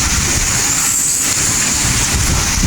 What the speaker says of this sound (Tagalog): grabe ang lakas ng ulan ang lakas ng hangin